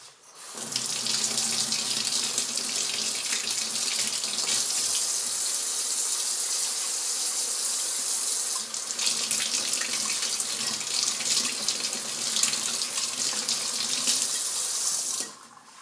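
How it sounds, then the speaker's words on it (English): Tap water runs into a kitchen sink while tomato seeds are rinsed out, a steady close hiss and splash that starts abruptly, dips briefly midway, then continues before cutting off. "I cleaned these out right into the sink."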